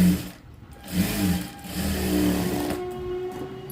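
A sewing machine stitches the side seam of a prince-cut blouse, running in close, continuous bursts with a steady mechanical whir.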